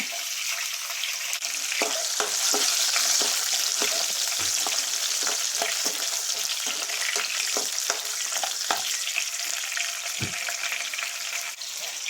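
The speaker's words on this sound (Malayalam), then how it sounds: "ഉള്ളി അങ്ങ് ഒത്തിരി മൂപ്പിക്കണ്ട, ജസ്റ്റ് ഒന്ന് വാട്ടിയെടുത്താൽ മതി" Onions sautéing in a pan for a Kerala-style fish chammanthi, a steady close sizzle with scattered sharp spatula scrapes and taps against the pan throughout, no voices.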